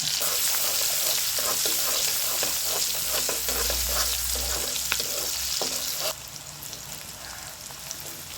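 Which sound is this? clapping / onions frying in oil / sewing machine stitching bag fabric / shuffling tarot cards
onions frying in oil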